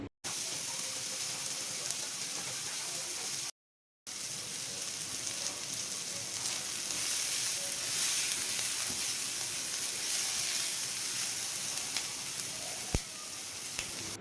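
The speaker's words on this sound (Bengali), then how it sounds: "একটু হালকা করে ভেজে নিব এরপর এখানে দিয়ে দিচ্ছি কেটে রাখা কাঁচা লঙ্কা কুচি" Chopped green chillies with onions sizzle in a pan for fish bharta, a steady close hiss of frying that swells slightly midway, broken by a brief gap near the start and a clink later on.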